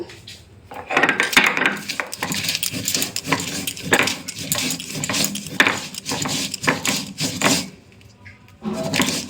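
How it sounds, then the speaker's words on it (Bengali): Spice paste with black pepper being ground by hand for a fish curry, heard as rhythmic, close scraping and grinding strokes that repeat in quick bursts with short pauses, with no voices. "এখন পুরাটা মশলা আমি বেটে নেব।"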